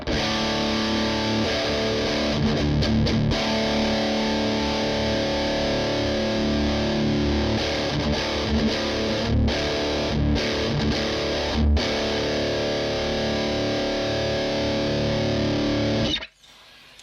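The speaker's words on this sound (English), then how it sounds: "that's pretty much the bass tone of this amp's distortion ultra gain channel" Electric guitar played through a Marshall DSL15H amp on its distortion ultra gain channel, a thick, loud distorted tone that rings continuously for about sixteen seconds before cutting off abruptly.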